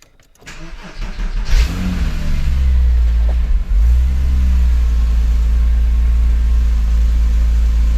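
A Porsche Cayman S 987 engine cranks and catches after a cam adjuster, spark plug and coil replacement, then revs up and settles into a loud, steady running rumble that continues to the end.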